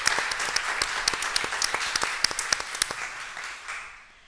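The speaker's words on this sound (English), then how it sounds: "So can we have a round of applause again for all of those nominations?" Audience at a booksellers' member forum applauds the nominations: a steady patter of many hands with sharper individual claps standing out, fading away toward the end.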